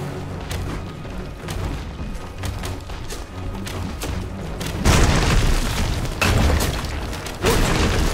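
Booming blasts and crashing impacts as an enemy tower is destroyed in Smite, with several heavy, loud hits rising out of busy battle noise in the second half.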